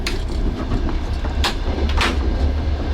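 A wooden train in Ukraine rumbles steadily along the rails with a low, continuous roar and occasional sharp clacks and squeals, loud and close.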